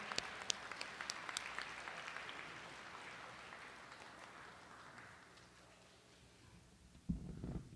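Students at a press conference give a round of applause, a steady wash of many hands clapping that is fairly distant and quiet and fades slightly toward the end.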